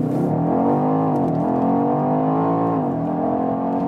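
A BMW X5 M or X6 M Competition accelerating hard, its engine droning loud and steady with rising and falling pitch sweeps as it pulls through gears, heard from inside the cabin with no talking.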